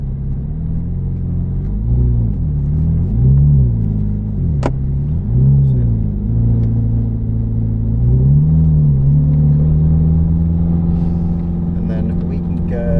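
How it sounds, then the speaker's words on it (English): Supercar with a semi-automatic gearbox on the track at Silverstone: a loud engine hums and rises and falls through gear changes, with a sharp click partway through, and an instructor's voice heard over the engine. "it's like driving an auto with a semi-automatic gearbox"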